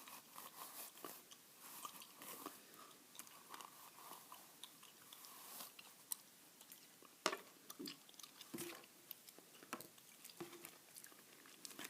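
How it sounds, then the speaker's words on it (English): Trident bubble gum is chewed quietly and steadily up close, with soft wet smacks and small crunchy clicks repeating throughout a calm, hushed setting. "Here's the gum I'm chewing tonight"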